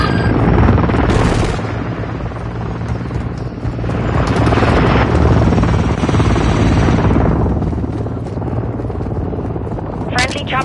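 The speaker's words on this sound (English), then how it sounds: "Friendly chopper gunner servicing targets." Chopper gunner helicopter from Call of Duty Modern Warfare 2 multiplayer, a loud continuous rotor drone with bursts of gunfire and explosions throughout, under radio-style game voice callouts.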